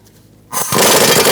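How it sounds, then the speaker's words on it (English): An impact tool on a 15mm socket suddenly kicks in and hammers loudly and continuously at a Ford Focus tie rod nut, close up with no voices. "Using a 15mm socket, we're going to remove our nut for our tie rod."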